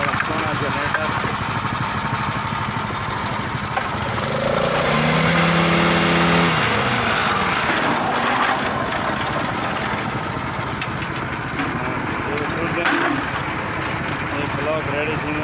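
A large petrol generator runs steadily at a concrete block factory beside a block-pressing machine, a loud continuous engine drone with some mechanical clatter, partly masked by nearby voices.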